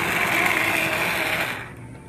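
An immersion blender whirs loudly while blending a pot of soup, a steady high motor whine that drops off as it stops near the end.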